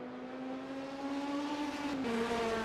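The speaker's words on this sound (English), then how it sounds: "Watching this 919 go around, that looks absolutely beautiful through the Porsche curves" Porsche 919 prototype race car in a Le Mans 24-hour racing game, its engine note sustained and steady, rising slightly in pitch as it sweeps through the Porsche curves, fairly close and alone without talk.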